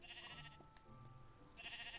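A Minecraft sheep bleats, two faint, wavering cries with a short pause between them, heard alone with no talking.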